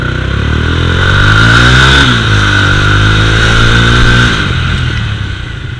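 A Mahindra Mojo motorcycle braking from around 50–60 km/h to a dead stop: loud engine drone falling in pitch as it slows, then settling to idle, close and alone with no talk.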